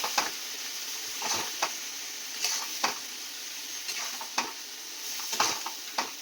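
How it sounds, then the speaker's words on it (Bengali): Spice masala being stirred in a frying pan after a splash of water, a constant hiss of sizzling under regular scraping strokes of a spatula, near and clear, no voices. "একটু জল দিয়ে দিচ্ছি দিয়ে আবারও একটু নাড়াচাড়া করে নিচ্ছি"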